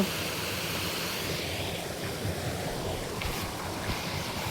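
Floodwater pours across seventy acres of flooded farmland, a continuous broad rushing roar mixed with wind buffeting on the microphone, without talking.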